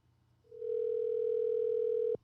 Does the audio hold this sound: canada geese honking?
no